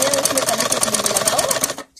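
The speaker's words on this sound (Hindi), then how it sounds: "अभी देखिए ऐसे ही मैं सीधी सीधी सिलाई लगाऊंगी कपड़े को बराबर बराबर करके" A sewing machine runs a straight seam on salwar cloth, its rapid even stitching loud and steady for nearly two seconds, then stopping abruptly.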